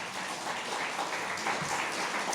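A church congregation applauding during a Spanish-language sermon, a dense, steady wash of many hands clapping at even volume throughout, with no break.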